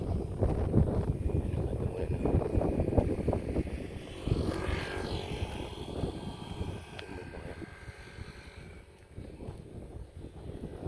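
Strong gusts sweep a mountain bypass road, buffeting the microphone with a rough, roaring rumble that rises and falls, broken by a few knocks.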